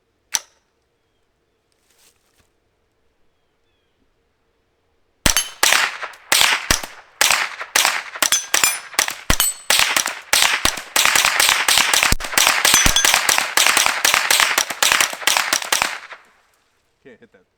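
An M&P15 22 rifle fitted with a BMF activator and a loaded drum fires outdoors at small targets: one isolated shot, a pause, then a long run of sharp, rapid cracks at close range, ending abruptly.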